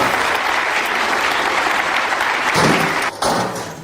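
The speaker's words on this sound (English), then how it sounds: "they're clapping before he's even done" A conference audience breaks into dense, sustained applause, loud and close, swelling briefly before a short dip and a fading tail.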